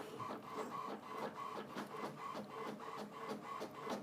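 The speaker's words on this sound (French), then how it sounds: "je peux tout de suite lancer une impression de test qui te montre que tout va bien" An HP inkjet printer printing a test page, a quiet, regular mechanical whirring with rhythmic pulses as the print head shuttles back and forth, steady and close with no talking.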